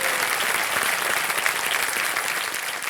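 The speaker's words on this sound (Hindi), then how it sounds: "तालियों के साथ इनका स्वागत है।" Sustained applause from a studio audience on the Indian quiz show KBC welcoming a contestant, steady and dense clapping throughout at close range with no talking.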